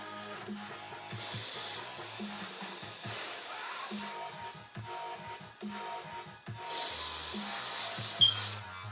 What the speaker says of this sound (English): we're gonna spray our bearings with some carburetor cleaner